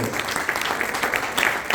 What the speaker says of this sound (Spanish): Si le va a dar las palmas, dérsela bien